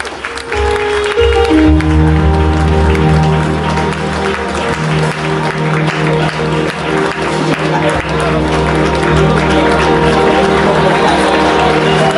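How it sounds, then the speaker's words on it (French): At a wedding, a dense, loud wash of applause and crowd cheering with music playing underneath, sustained throughout without a break. "Alors, notre frère Ange Lénoin va faire son entrée sous vos acclamations, s'il vous plaît."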